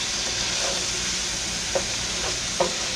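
Spicy beef sizzling steadily in a skillet with a continuous frying hiss, while a spoon stirs through it and scrapes the pan in a few soft knocks near the end.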